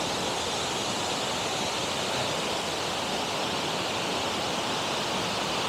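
A waterfall in the Jura roars as a steady, dense hiss of falling water, continuous and fairly loud with no voices.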